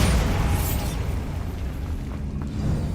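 A Bombarda blasting spell explodes in Hogwarts Legacy, a loud, close, rumbling boom that fills the moment and slowly decays into debris noise.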